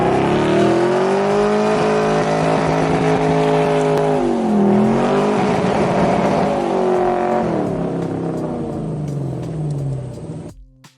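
A 1974 VW Beetle barn find's air-cooled engine revs and drives with its throttle pulled by hand, a loud steady drone that rises and dips in pitch before cutting off abruptly at the end.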